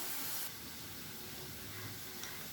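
Drumstick pods dropped into fried masala paste for a tangy pulusu sizzle quietly, a soft, continuous steamy hiss with no talking.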